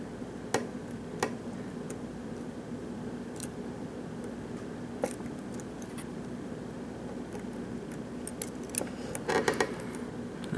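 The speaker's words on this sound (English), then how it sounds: "I'm sure you can hear all the crunching and the clicking in this lock." Faint, sparse clicks and light crunching from a Rookie No. 10 lock being picked, scattered irregularly over a steady low background hum, with a brief cluster of sharper ticks near the end.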